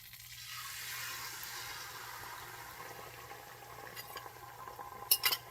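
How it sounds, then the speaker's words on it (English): Beaten eggs hit melted butter in a cast iron skillet, setting off a soft, steady sizzle with a few brief scraping clicks near the end, all quiet and close. "now I'm going to pour in my eggs"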